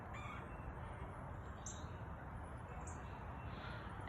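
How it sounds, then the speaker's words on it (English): Crows cawing in trees outdoors at a school, a few distant calls rising over a steady hiss of background noise, faint and spaced apart. "Can you guys hear the birds?"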